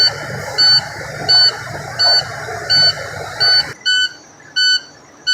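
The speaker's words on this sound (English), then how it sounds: "As you hear the alarms going off, our air pressure is currently roughly about 10 psi." A low air pressure warning alarm sounds at about 10 psi, a loud electronic beep repeating evenly about once every 0.7 seconds, then continuing in a slightly different tone.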